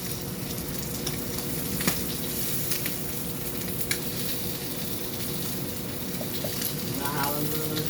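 Food sizzles and fries steadily in a pan at close range, a continuous crackling hiss with occasional small pops and a stir or two, lasting the whole stretch with no talk over it.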